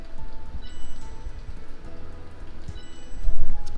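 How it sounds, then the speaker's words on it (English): Steady rain from the Pokemon Sleep video game patters on a surface, loud and continuous, swelling briefly toward the end, with no talking. "But look at this rain."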